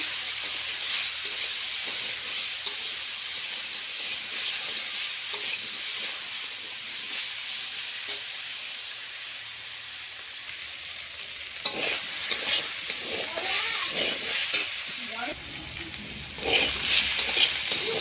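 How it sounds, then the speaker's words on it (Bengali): Potatoes with salt and turmeric fry steadily in a pan for a fenugreek-greens dish, a continuous sizzle and hiss with repeated scraping stirs that grow louder and busier toward the end; no voices. "ভালো করে ভাজা ভাজা করে নেব আলুটা।"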